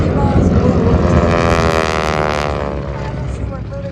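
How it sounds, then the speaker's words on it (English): A Beech 18 twin-engine propeller aircraft flies past at an air show, a loud droning engine roar that fades slowly over a few seconds. "the Twin Beech, one of the world's most widely used and longest produced light aircraft"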